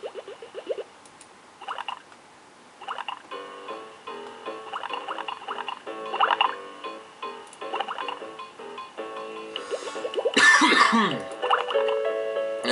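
Repeated coughs and throat-clearing sounds come in short, quiet bursts spread across several seconds during the Freddi Fish adventure game Mystery of the Missing Kelp Seeds, mixed with faint bubbly, dripping background noises.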